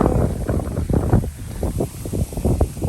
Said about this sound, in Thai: ลมมันสิหนาวเนาะค่ะเนาะ